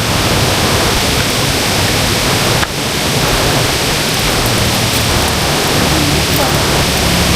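Water falling from above under shady trees along a ride from Manila to Real, Quezon: a loud, steady broadband rush like rain or a small waterfall, continuous throughout with a brief dip near the middle.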